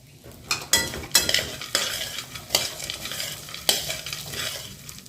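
A spoon repeatedly scrapes and stirs chopped dried figs and nuts as they dry-roast in a pan over a medium flame, giving sharp scraping strokes in an irregular rhythm with a light rustling sizzle between them.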